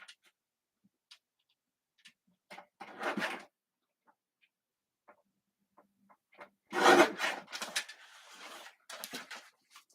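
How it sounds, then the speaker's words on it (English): Scissors or a trimmer taking a slight sliver off the edge of a 4 by 5 inch handmade card, giving two short close rasping bursts among faint ticks and taps in an otherwise quiet room. "Let me just trim this a hair."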